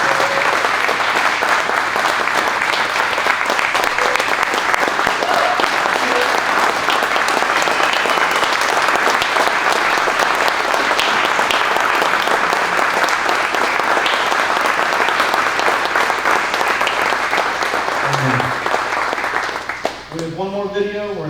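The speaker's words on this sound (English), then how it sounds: "big round of applause for Brett and for Christy" A large audience gives a long, loud, sustained round of applause at a ten-year celebration event, and it thins out near the end as a voice comes in.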